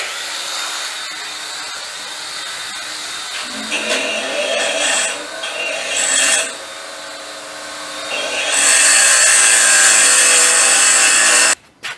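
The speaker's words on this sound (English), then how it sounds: "let's do that now on the other grinder. I'll round this end" A bench grinder rounds the end of a metal piece in a workshop, a loud whining grind that swells and eases as the metal is pressed on, rising to a harsh bright screech before cutting off.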